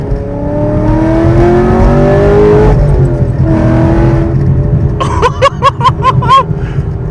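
A Camaro SS 1LE's engine revs hard through rising gears on a mountain road, loud and close, with sharp popping bursts near the end.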